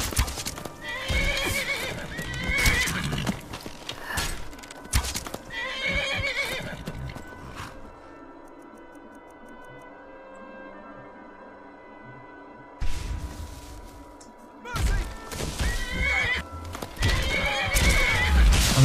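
In the game Skyrim, a horse clip-clops and whinnies, hooves thudding in bursts that pause for a stretch of quieter ambience before resuming, fairly close and loud.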